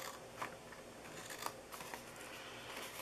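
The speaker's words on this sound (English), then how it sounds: "I'm going to cut into the sides here." Scissors snip into the sides of a paper DIY gift box, giving a few quiet, close crisp cuts over soft background noise.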